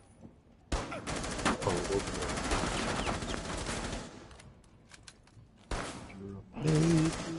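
Bursts of rapid automatic gunfire in the Rainbow Six Siege video game, a long sustained volley followed by a shorter burst, with a player's voice briefly heard between shots.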